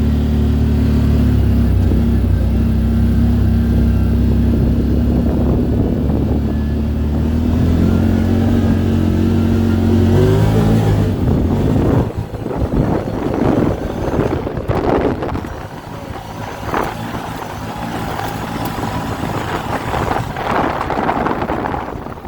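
A CFMoto Z-Force 950 Trail side-by-side, 50 inches wide with Elka shocks, drives a trail. A loud, steady engine drone breaks into rougher, fluctuating revving, with heavy wind buffeting and rattling over the second half.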